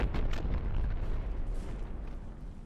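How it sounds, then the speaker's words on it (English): A heavy internal explosion aboard a warship in the game From the Depths rips through its components, a loud, sustained rumbling blast with dense low-end roar that slowly tapers off. "that was a fairly hefty internal explosion taking out cram components"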